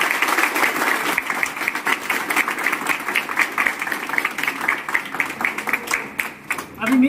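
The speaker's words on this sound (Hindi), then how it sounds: "अंकल आंटी के लिए भी एक बार जोरदार ताली होना चाहिए।" Loud, sustained clapping from an audience at a sales achievers' celebration, greeting an honouree's parents as they come forward, with rapid claps filling the whole stretch and dipping briefly before a final swell.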